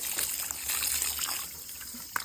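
Water from a garden fountain trickles and splashes in a soft, continuous hiss, faint and close, with no voices over it.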